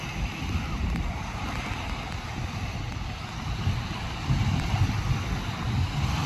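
Wind gusting across Playa de Muro beach on a hot summer day, with surf rolling in beneath it as a loud, steady rumble and hiss that swells slightly toward the end.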